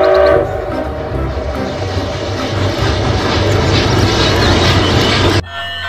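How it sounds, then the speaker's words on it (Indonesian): A toy train rumbling loudly and close with a horn-like blare and clattering rumble for several seconds, then cutting off abruptly near the end. "Wah, ini ada kereta api teman-teman."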